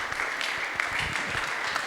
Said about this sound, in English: Big round of applause to ma'am for helping me this